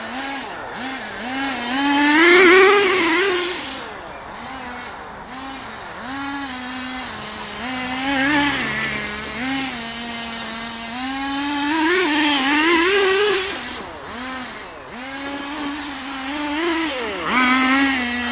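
Small nitro-fuelled RC car engine running close by, a high buzzing whine that rises and falls continuously as the throttle is blipped over about eighteen seconds, loud throughout with no speech.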